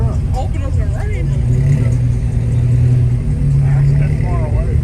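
An old school bus with a big Hemi engine idles and rumbles steadily at a cars-and-coffee gathering in Oklahoma City, a low continuous drone with a slight rise, while people talk nearby throughout.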